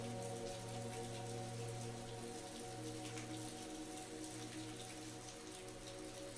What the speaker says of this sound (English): As the rain pitter-pattered against the cabin's windows